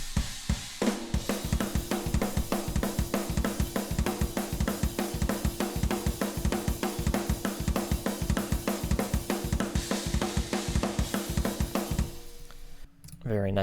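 A drum kit heard through overhead mics plays a steady, driving beat with sharp snare hits and washing cymbals in a metal mix, the hissy top end tamed, then stops abruptly near the end.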